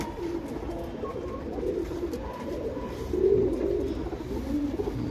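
Chapper makshi male pigeon cooing in a low, repeated throaty rhythm close by over a steady background hum, with a slightly louder stretch in the second half.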